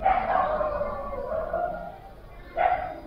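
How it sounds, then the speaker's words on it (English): A neighbourhood dog barks in the distance, a couple of yelps at the start and another sharp bark near the end, over a steady background hiss. "there's a dog barking in the background"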